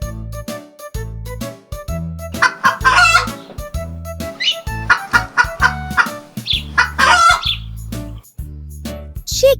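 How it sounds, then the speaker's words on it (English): A chicken clucks and squawks in several bursts of choppy calls over a bouncy, rhythmic music bed, fairly close and clear. "Chicken."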